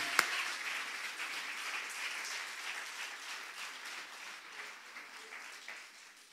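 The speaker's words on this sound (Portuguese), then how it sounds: "Fai un applauso a Dio." A church congregation applauds during a bilingual Portuguese-Italian gospel Sunday service in Biella, a steady wash of many hands clapping that holds for several seconds and slowly fades, with a sharp single clap at the start.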